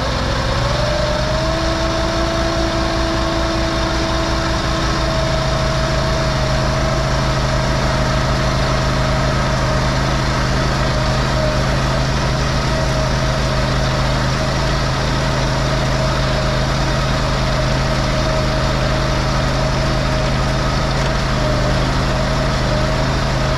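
The diesel engine of a Magnatrac RS1000 mini backhoe drones steadily under heavy load, a loud constant hum with a sustained higher whine layered over it and no break throughout.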